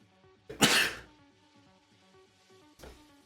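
A single sharp sneeze bursts out loud and close, then trails off, followed by a shorter throat sound near the end over faint background music.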